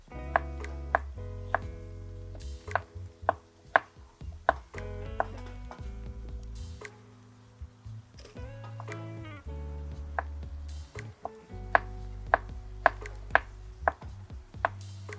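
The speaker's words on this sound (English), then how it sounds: "we're gonna dice up this zucchini. Long ways is the best for me. And leave the skin on." A knife dices zucchini lengthwise with the skin left on, making crisp, close chopping taps on a cutting board in uneven bursts, with no voices.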